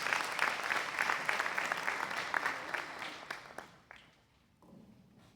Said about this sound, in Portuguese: Vamos dar mais uma salva de palmas para as nossas autoridades.